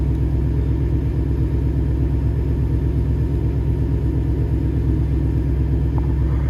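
A Ford Mustang S550 drift car fitted with a new transmission idles steadily, a loud, continuous low engine rumble with a faint pulsing beat throughout, no voices.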